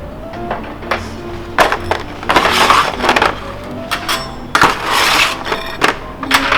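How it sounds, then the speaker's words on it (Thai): Crisp baked bread topped with pork floss and chili paste, cooled on a rack, being squeezed and broken, giving several sharp crackling crunches in bursts, close up, with faint background noise between them. "ได้ยินเสียงกรอบเลยนี่"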